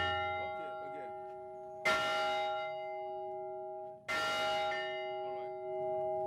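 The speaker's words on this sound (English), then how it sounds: "Can you ring that bell here?" A large metal plantation bell is struck twice, each clang ringing out loud and long with a rich, sustained hum that fades slowly between strikes, outdoors with faint voices nearby.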